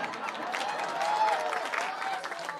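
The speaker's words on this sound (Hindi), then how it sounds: "ताली।" An audience applauds during a staged religious drama at a Jain ceremony, a steady wash of many hands clapping at moderate distance, sustained without a break and tapering slightly at the end.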